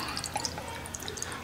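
Aromatic bitters drip and splash in quick, light dashes into an Old Fashioned glass, a scatter of small, close liquid plinks over a faint background hiss.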